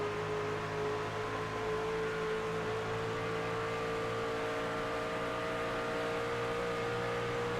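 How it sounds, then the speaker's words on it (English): A racing series truck engine at Charlotte Motor Speedway drones loudly and steadily, its throttle held and then cut off as the driver clutches in, with the engine tone sustained throughout and no voices. "You heard that throttle rhythm all of a sudden just cut completely off."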